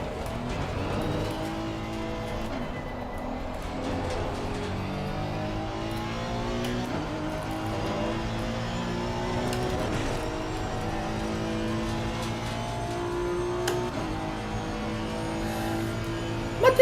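A GT race car in Assetto Corsa Competizione, engine revving up through gears with shifts and dropping under braking, continuous and fairly loud with no talk over it.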